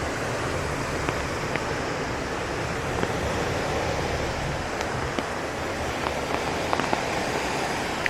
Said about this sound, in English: insanely loud sound of rushing water in a building.